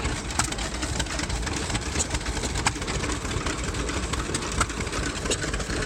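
Several engines run steadily at a show, a continuous, fairly loud low rumble with an even idling texture and no pauses or voices.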